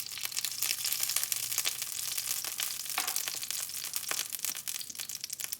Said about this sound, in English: Heat the sesame oil in the frying pan.